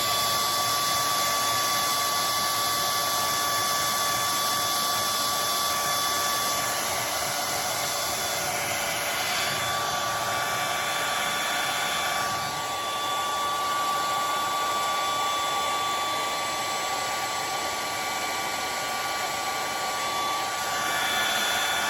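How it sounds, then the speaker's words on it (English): A hair dryer blows steadily at close range, drying acrylic finisher on a pink bag, with a constant loud whooshing hum and whine that continues with no break. "let me get a hairdryer on this"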